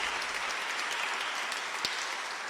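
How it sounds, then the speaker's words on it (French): Outdoor crowd applause at a French town's Advent lighting ceremony for a large candle, a moderate, continuous patter of clapping with one sharp knock partway through. "On peut les applaudir quand même."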